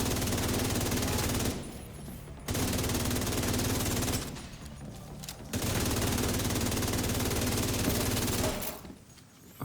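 Bursts of rapid automatic gunfire from the video game Into the Dark Scout 3 Manhunt, in long sustained volleys separated by short pauses, with the rattle continuing almost without a break.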